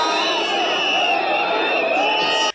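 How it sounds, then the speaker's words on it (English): Mourners at Jomo Kenyatta airport in Kenya cheer wildly as the Kenya Airways plane carrying Raila Odinga's body flies past, a loud, sustained crowd roar with shouts and whoops that cuts off abruptly. "the mourners burst into wild cheers"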